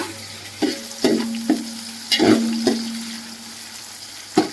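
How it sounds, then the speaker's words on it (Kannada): Onion base stirred in a hot pan for a pulao, a steady sizzle of frying broken by about half a dozen sharp scraping strokes of the spoon against the pan, close and clear with no talking. "ಇವಾಗ ಉಳ್ಳಾಗಡ್ಡೆ ಚಟ್ನಿ ಅಲ್ಲ, ಬೇಸ್ ಕೆಂಪುವರೆಗೆ ತಿರುಗಿಸ್ಕೊಂತೀನಿ"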